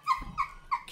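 A few short, nasal snorts in quick succession, three close bursts within a second, fairly faint and with no talking over them.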